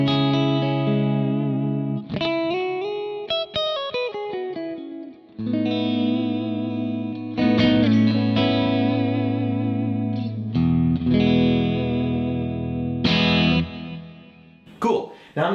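An electric guitar played through a low-wattage, low-headroom amp profile on a Kemper with no overdrive or soft shaper: clean chords and melodic runs with slight breakup, chorus and reverb, played alone in phrases with short pauses.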